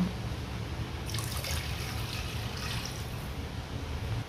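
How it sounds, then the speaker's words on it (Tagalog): Water pours steadily into a pot, a continuous splashing trickle with no voices, holding even in level throughout. "Lalagay po tayo ng tubig."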